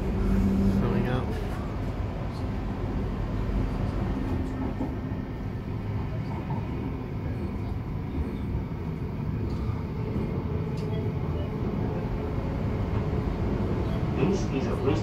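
A Brisbane City and Springfield Central train rumbles steadily and close by as it arrives at a station, a continuous low mechanical roar with faint rattling throughout.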